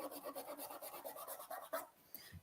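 Sandpaper held under the fingers rubs over lacquered wood in a quick series of soft, rasping strokes, close and quiet, ending with a brief pause and one last scrape.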